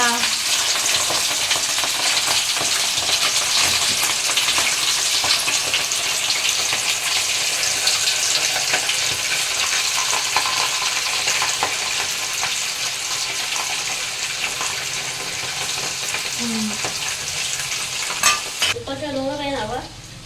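Fish pieces for pickle fry vigorously in hot oil, a loud, steady crackling sizzle that runs unbroken for most of the clip before stopping abruptly near the end, with a brief stir sound after.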